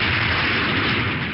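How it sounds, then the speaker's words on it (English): A sonic boom heard as a loud, deep broadband blast that holds as a sustained rolling roar for over a second, then eases off slightly at the end, with no voices. "We found this sonic boom online."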